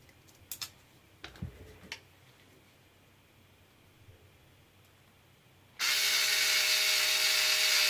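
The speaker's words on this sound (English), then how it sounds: "this is a hell of a lot quicker and a lot easier with a powered screwdriver" Powered screwdriver fastening a Hobao Hyper VS nitro RC car radio tray, starting with a few light clicks and taps, then a sudden loud steady whirring drive that runs to the end.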